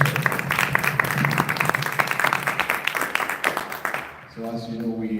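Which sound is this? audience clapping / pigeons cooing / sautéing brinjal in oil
audience clapping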